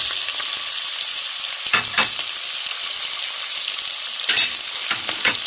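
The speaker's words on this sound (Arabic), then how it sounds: "نزلت اللحمه على البصل" Meat frying on a bed of onions in a pan gives a loud, continuous close sizzle, with a few louder stirring clatters near the start and end, no talk.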